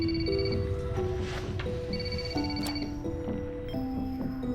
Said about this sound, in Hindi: कम से कम फोन तो उठा लो अली